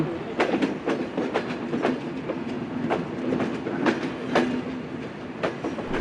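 The Intercity Rupsha Express rolls along the rails in Bangladesh, heard from on board: a steady rumbling clatter with rhythmic wheel clicks over joints, a faint voice underneath.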